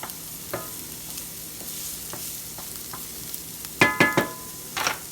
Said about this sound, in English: Just saute them a little bit with some grapeseed oil, olive oil, whatever oil you choose to use.